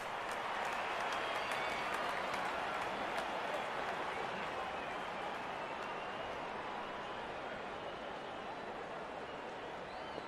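Simulated stadium crowd applause from the cricket video game Real Cricket 22, a dense continuous roar of clapping and cheering that holds steady throughout, with a commentator's voice faintly mixed in.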